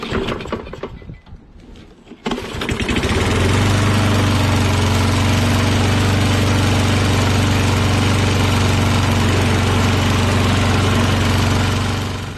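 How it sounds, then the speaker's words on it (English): A Kohler XT675 engine on a Toro Recycler 22-inch self-propelled lawn mower starts up after a quiet moment and settles into a loud, steady but rough-running idle with a strong low hum that continues to the end. "As you can tell, it's running kind of rough."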